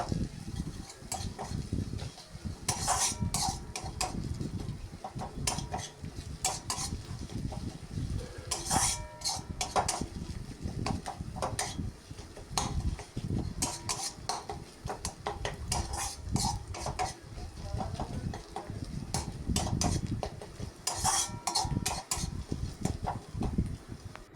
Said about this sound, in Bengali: এভাবেই নেড়ে ছেড়ে আবার কিছুক্ষণ আমি কষিয়ে নেব।